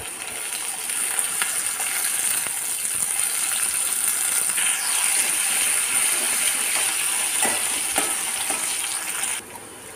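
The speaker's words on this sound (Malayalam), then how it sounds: "ഒരു കഷ്ണം ഇഞ്ചി, കുറച്ച് കറിവേപ്പില, ഒരല്പം പച്ചമുളക്, ഇത്രയും നമുക്കൊന്ന് വഴറ്റാനിടാം" Garlic, ginger, curry leaves and green chili sauté in hot oil for a hog plum pickle, sending up a loud, continuous, close sizzle with occasional utensil clicks before it cuts off abruptly.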